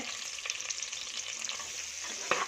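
Two onions roast in ghee in a pan, giving a soft, steady sizzle with occasional stirring scrapes and one brief clatter near the end, no voices.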